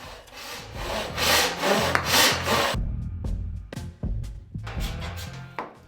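A hand saw cuts a wooden board in a pegboard build, giving rhythmic back-and-forth rasping strokes, quicker and louder at first, then shorter, sparser strokes with small knocks as the cut nears its end.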